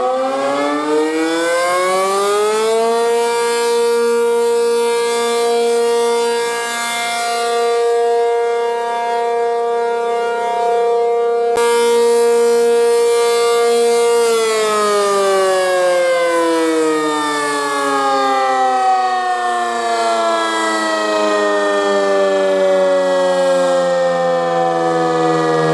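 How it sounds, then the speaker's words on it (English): A loud, sustained tornado siren wails with rich harmonic tones, dipping and rising in pitch in long sweeps, with no voices. "We can blow our sirens"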